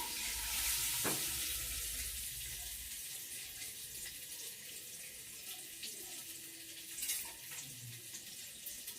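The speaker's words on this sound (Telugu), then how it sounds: "చూడండి ఎలా ఫ్రై అవుతున్నాయో" Curry ingredients frying in a pan give off a steady, hissing sizzle. It is fairly quiet and continuous, with a slight swell midway and no one talking.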